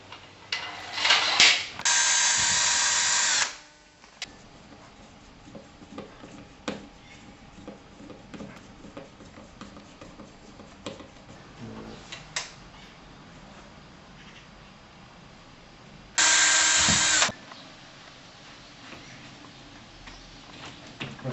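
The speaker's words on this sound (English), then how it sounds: "And this is just drill a hole, secure with a screw there to stop the cassette from moving around." A power drill bores a hole for a screw to fix an insect screen cassette, with two loud whirring bursts, one early and one later, separated by quieter ticking and handling noises.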